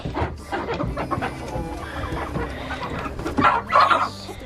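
A hen clucking repeatedly, close by, near a fire outdoors, with bursts of louder clucks toward the end and no talking.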